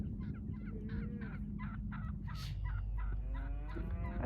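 Farm turkeys, hens with a tom among them, gobble and cluck in quick repeated bursts over a constant low rumble of background noise.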